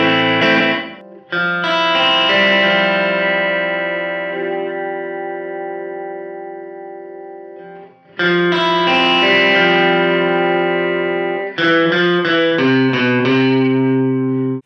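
Electric guitar through a Keeley Verb O' Trem pedal set to its room reverb mode: loud, sustained chords ring out and fade into a roomy tail, followed by another long chord and a quicker run of struck notes.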